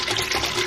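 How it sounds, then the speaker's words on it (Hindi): Milk pours into a mango lassi mixture, a steady liquid splashing and trickling that stays close and continuous for under a second. "अब ये मैं दूध डाल रही हूँ"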